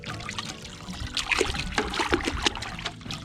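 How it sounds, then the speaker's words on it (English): A detailing brush is dunked and rinsed in a bucket of clean water while washing a Honda Fury motorcycle, giving close sloshing, dribbling splashes in uneven bursts that build toward the middle. "you then take it, because there's dirt in the brush, and dump it in the clean water"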